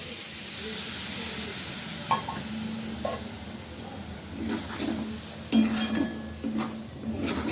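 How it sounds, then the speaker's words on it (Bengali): Shrimp sizzle in a pan as a small splash of water goes in, a constant close frying hiss broken by stirring scrapes and a few clinks against the pan. "আমি অল্প পরিমাণে একটু জল দিয়ে দিলাম।"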